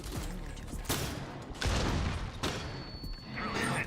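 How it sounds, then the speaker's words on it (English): A stun grenade bursts in Rainbow Six: Extraction with a sharp, loud blast followed by further bangs and rumbling gunfire-like impacts in quick succession, close and harsh. "Stun grenade out."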